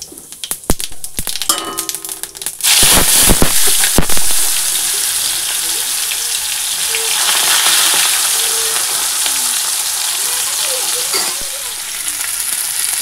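Whole cumin seeds hit hot oil with turmeric in a wok, setting off a loud, bright continuous sizzle that follows a few clanks and stirring scrapes and then settles into a steady frying hiss.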